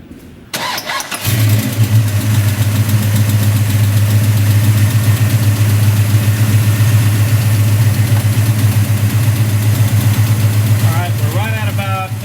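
A car engine fitted with a Street Demon carburetor cranks briefly, catches and then settles into a steady, loud idle that holds for the rest of the stretch, with a few faint background noises near the end.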